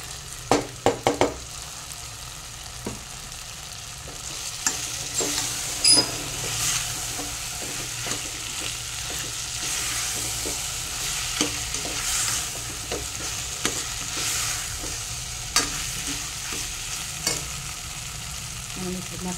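Sliced bitter gourds sizzle steadily in a pan for kakarakaya pulusu, broken by repeated scraping stirs and sharp clicks of a spoon against the metal, close and alone without voices.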